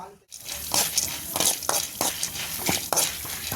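Chana dal fries in a pan for tomato chutney as a spoon stirs it, giving repeated scraping strokes at a steady rhythm over a faint sizzle.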